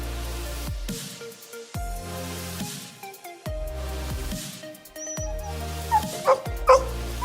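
A dog rescued from a frozen pond whimpers in short, high cries that come in a brief cluster near the end, over a steady, repeating musical background.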